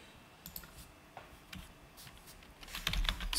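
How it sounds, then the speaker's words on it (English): Typing a sudo dnf update command on a computer keyboard while updating a Rocky Linux system, with bursts of close, crisp key clicks and a faster, denser run of keystrokes near the end. "We will just type in sudo dnf update"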